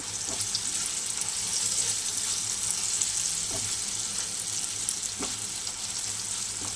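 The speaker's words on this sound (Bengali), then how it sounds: "দেখো বন্ধুরা, ভাজা প্রায় হয়ে এসছে। আমি অল্প একটু লঙ্কার গুঁড়ো দিয়ে দিয়েছি।" Bitter gourd fries in oil with a little chili powder, a steady close sizzle punctuated by a few light stirring scrapes against the pan.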